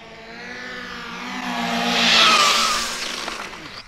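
A carbon-chassis Arrma AK-917 RC car blasting through a full-throttle speed run, its high-pitched electric whine rising to a peak as it passes near, then fading with a sharp drop as braking starts.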